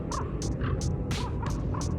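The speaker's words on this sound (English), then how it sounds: "There's a really loud bird just buzzing around my yard. It looks like a crow, but it's so loud." A loud crow-like bird calls repeatedly in a backyard, giving about six harsh, evenly spaced cries close to the listener over a constant low background rumble.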